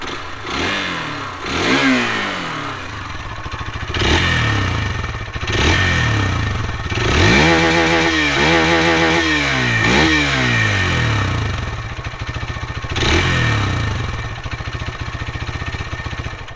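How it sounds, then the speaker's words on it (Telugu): A 2024 Hero Xtreme 160R 4V motorcycle's exhaust note rises and falls through repeated revs and gear changes while riding, a loud, close, buzzy mid-pitched engine with clattery pulses and no talk. "లేట్ చేయకుండా ఎగ్జాస్ట్ నోట్ విని రైడ్ చేద్దాం."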